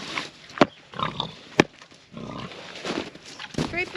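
Pigs grunt and oink close by in a barn, a few short bursts mixed with sharp wooden knocks and scuffling.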